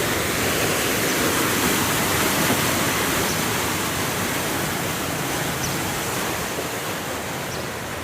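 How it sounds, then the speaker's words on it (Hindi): A canal in a Punjab village rushes past in a steady, loud broadband wash of flowing water, with no pauses or voices. "पानी देखो कैसे मस्ती में जा रहा है।"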